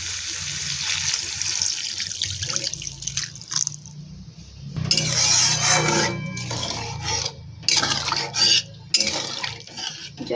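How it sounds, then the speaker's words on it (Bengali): Water pours and splashes into a pan of mustard curry with eggplant and hilsa fish, a steady rushing trickle that swells midway, with scraping sounds before and brief gaps near the end. "এবার জল দিয়ে দেবো।"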